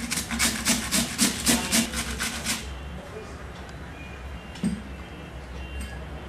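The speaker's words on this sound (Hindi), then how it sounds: "और हमने ये जो ककड़ी ली है इसे भी कद्दूकस कर लेंगे।" Cucumber is rubbed against a kitchen grater in about seven quick rhythmic rasping strokes, close and crisp, before the scraping stops and the room goes quiet.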